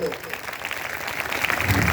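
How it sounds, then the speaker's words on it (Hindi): Applause from an audience at a ceremony during a memento presentation, a moderately loud, steady patter of clapping that swells toward the end, with voices mixed in. "तालियां बजाते रहे"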